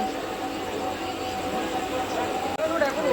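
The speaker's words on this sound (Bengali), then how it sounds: "এই ট্রেন ছাড়ছে আমাদের।" A Panskura-to-Howrah local train pulling out from platform 3, a continuous loud rolling rumble with a faint tonal whine running throughout.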